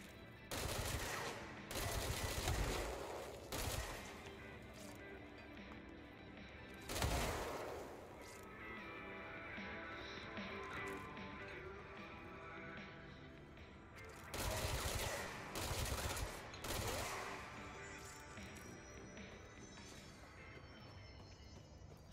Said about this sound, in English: Why have I not been using this weapon? My god. I love SMGs.